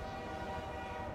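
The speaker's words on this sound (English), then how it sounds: "Big train." A big train's horn in the In Sound Mind video game blares as a low, steady drone with a rumbling undercarriage, heard faintly but continuously for the whole moment.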